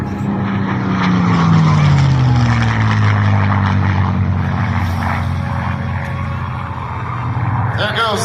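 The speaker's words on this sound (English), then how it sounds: "There goes the Mustang." A P-51D Mustang warplane flies past at an air show, its propeller engine a loud, sustained drone whose pitch sweeps steadily downward as it passes close by and recedes, with a voice faintly audible beneath.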